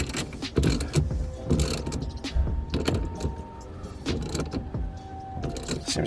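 A ratchet clicks in quick bursts while tightening a new steering wheel onto a Honda Prelude, with light mechanical rattles and pauses between the rounds of clicking inside the car.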